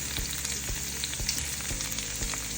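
Tomato and okra frying in a pan for sambar, a close, continuous hiss of sizzling oil with small crackles and light stirring taps, no voices.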